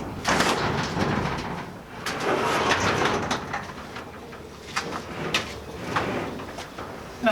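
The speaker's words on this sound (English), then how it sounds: "Let's open that door and have a better look." The door of a 1971 Ford Mustang Mach 1 opens with a clunk and a short scraping creak, set against a noisy, busy background ambience.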